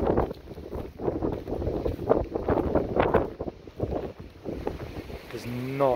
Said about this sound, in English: The gusts are crazy.